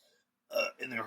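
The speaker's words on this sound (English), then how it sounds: "I'm burping a lot" A loud burp on a podcast recording, two gurgling bursts in quick succession after a brief silence, close to the microphone.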